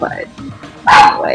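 A pet dog lets out a single loud, close bark right after a short spoken phrase, with a little trailing voice behind it.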